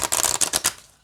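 A quick riffle of a wide deck of oracle cards being shuffled, a rapid burst of crisp flapping clicks that tapers off within about a second.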